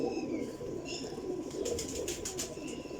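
A Teddy Golden pigeon coos in low, faint calls under a steady background hum, with a short run of brighter clicks and flutters midway.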